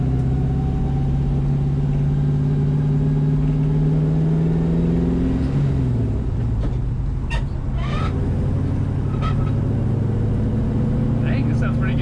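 Engine and exhaust of a Dodge Challenger rescued after 35 years sitting abandoned, now with a new exhaust, droning steadily under way then shifting pitch as it accelerates, with a few brief knocks near the end.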